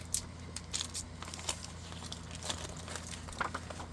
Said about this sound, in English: And this edge needs a little distressing.